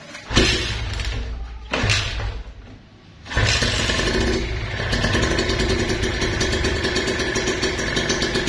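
A Kawasaki Ninja R motorcycle engine with a ported block, freshly changed oil and a retuned carburettor. It coughs and sputters a few times, then settles into a loud, steady, close idle.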